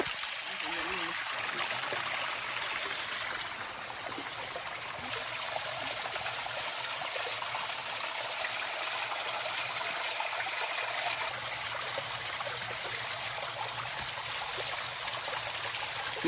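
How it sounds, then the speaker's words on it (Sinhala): Water trickles from a natural spring on a Sri Lankan mountain campsite, a soft continuous hiss of flowing water that runs evenly throughout without speech. "මේක guys වතුර උල්පතක් මේ"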